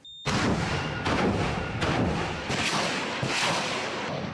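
Artillery fires on the front line southwest of Bakhmut: a series of about five heavy blasts at uneven intervals. Each has a sharp onset followed by a long rumbling decay that overlaps the next.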